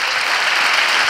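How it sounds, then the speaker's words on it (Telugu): Loud, steady applause from a church congregation at a Telugu sermon, a dense wash of clapping sustained throughout with no pauses. "చప్పట్లు కొడదాం గట్టిగా"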